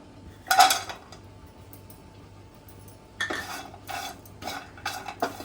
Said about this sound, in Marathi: आपण खोबरं भाजून घेऊया